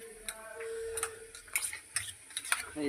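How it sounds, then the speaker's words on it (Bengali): Onions frying in a pan, a sizzle with scattered crackles and a few clicking stirs, moderately close. "এখানে পেঁয়াজ ভাজা হচ্ছে"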